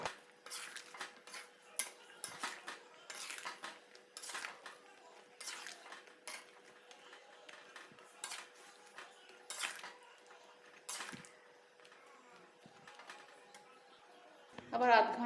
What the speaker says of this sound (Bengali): আবার ঢাকাটা খুলে একটু নাড়িয়ে দিচ্ছি।